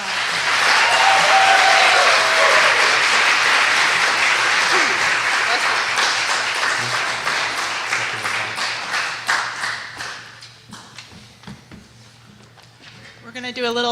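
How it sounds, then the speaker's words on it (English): Audience applause at a nursing colloquium, a long burst of steady clapping that starts loud, thins out toward the end into scattered claps, then picks up briefly again. "Let's give them a round of applause."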